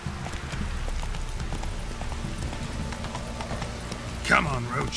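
Roach, the player's horse in The Witcher 3, gallops with rapid, close hoofbeats in a steady rhythm, and a brief voice rises over the hooves near the end.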